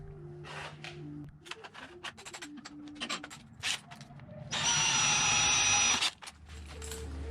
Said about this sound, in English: Always do a pilot hole first.